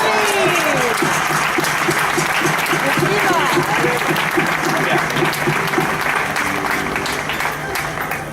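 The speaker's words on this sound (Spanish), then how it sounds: "Voy a pedir para que se prepare la rondalla un fuerte aplauso" Audience applause for a birthday at a folk festival, loud and sustained clapping throughout, with voices and some musical tones underneath.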